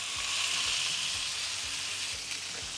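Salmon fillets searing in a hot pan, a loud, even sizzle held throughout with faint low rhythmic knocks underneath; no voices.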